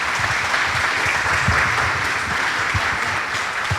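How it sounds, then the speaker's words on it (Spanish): A festival audience applauds a guest speaker, producing continuous, moderately loud clapping with scattered sharper individual claps standing out near the front. "Un aplauso para ella, por favor."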